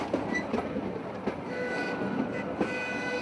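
Train running on rail tracks at a railway museum with steam locomotives, a steady rumbling roll with a few sharp clanks and a faint high whine, moderately near and alone.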